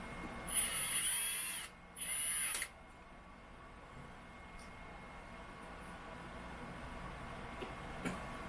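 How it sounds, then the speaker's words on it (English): A Ridgid power drill drives mounting screws for a network switch in two short whirring bursts early on, close and fairly loud, followed by quiet room tone. "I'm impatient, so I like to use the old rigid power drill."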